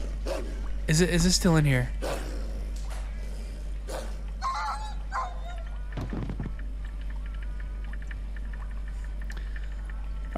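A dog in a horror video game barks and squeals in a short burst near the start, followed by a few fainter scrapes and thuds under a low constant hum while a person talks.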